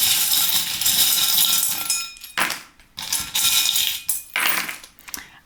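Metal tarot charms are cast and shaken together for a reading, giving bright jingling clinks and rattles, with three distinct bursts of chiming metal falling and settling up close.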